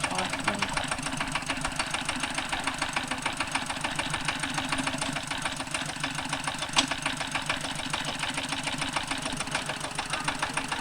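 A tractor engine chugs steadily and loudly nearby, a constant rhythmic throb that never lets up.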